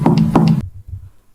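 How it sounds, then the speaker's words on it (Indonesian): Two sharp knocks on a door come close and loud at the start, used as a sound effect in a horror story, followed by near silence with only a faint low rumble. "terdengar suara ketukan di pintu."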